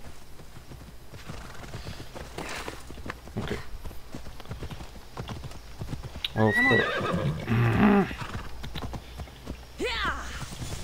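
Horse hooves clip-clop in Assassin's Creed Odyssey, a steady rhythmic trot with a horse whinnying partway through, under occasional spoken commentary.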